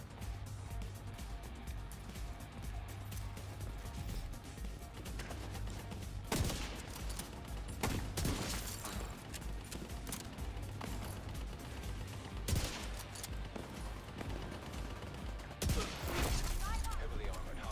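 Enemy turrets fire during a Division 2 firefight, sustained gunfire bursts with sharper blasts mixed in over busy battle noise and game ambience.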